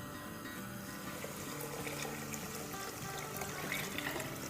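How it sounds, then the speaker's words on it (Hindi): Water runs steadily from a tap into a pot on the stove, a continuous splashing trickle with faint clinks of metal, close by and moderately quiet. "चूल्हा ऑन करेंगे इसका और इसमें पानी डाल देंगे।"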